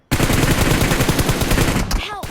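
Rapid automatic gunfire in the PUBG Mobile battle-royale shooter crackles in a dense, continuous burst, loud and close, then cuts off as a brief whooshing game effect follows; no clear talk.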